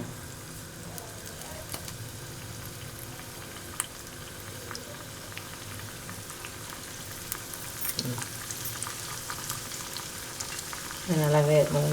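Chickpea vadas frying in hot oil, a steady crackling sizzle with bubbling throughout and a louder burst near the end as a fresh batch or turned vada hits the oil.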